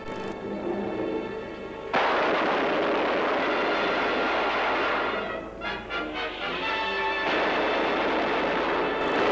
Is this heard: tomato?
no